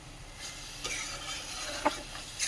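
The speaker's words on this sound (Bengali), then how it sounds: "লাস্টে ঘিয়ে এইভাবে ভাজতে হয়" Carrot halwa fries in ghee, a soft, faint sizzle with gentle stirring scrapes and a couple of light clinks over a short moment, with no talking.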